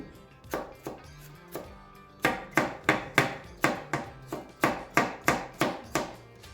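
Knife chopping food on a cutting board for a simmered spaghetti sauce, a series of sharp, close, evenly spaced chops, a few sparse strikes first, then a steady rapid run of about a dozen loud hits.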